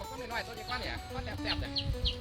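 Several chickens cluck and squawk nearby in short bursts while a person talks over them.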